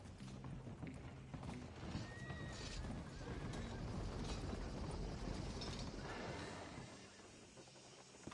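A horse whinnies in Red Dead Redemption 2 amid busy mechanical clatter and hoof-like clopping, with a steady layered background of game ambience.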